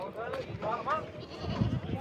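Goats bleat in a series of wavering calls at a busy goat market in Dhanaula, close by and loud against a steady crowd murmur with voices talking throughout.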